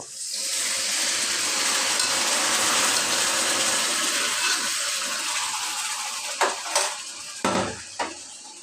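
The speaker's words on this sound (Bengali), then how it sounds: "সব কিছু দিয়ে আমি একটু পানি দিয়ে দিব" Water hitting a hot pan of turmeric, chili and spices gives a steady broadband sizzling hiss that slowly fades, followed by a few sharp clinks of a utensil against the pan near the end.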